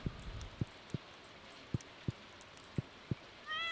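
A cartoonish cat meows in Stardew Valley, the farming video game, as a short chirpy call near the end, after a run of evenly spaced soft game clicks and thumps.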